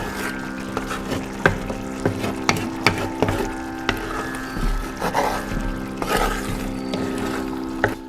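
Jaggery syrup boils in a pot with a soft, continuous bubbling simmer, broken by sporadic sharp clicks and taps close by.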